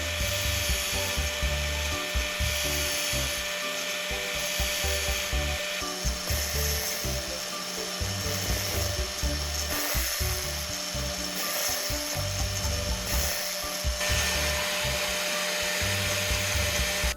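A metal drill bit is ground against an abrasive in a steady rasping, scraping rhythm, with repeated strokes that stay even and close throughout.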